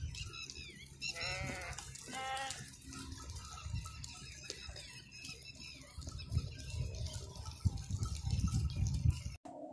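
Goats and sheep at a livestock farm in Pakistan, with several wavering bleats early on over a busy background of rustling, movement and distant voices.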